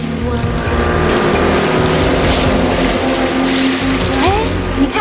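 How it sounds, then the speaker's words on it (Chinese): A jet ski engine runs on open water with a loud, steady motor drone over splashing waves and wind, and voices mixed in. "你看他们玩那个水上摩托艇多好玩啊！"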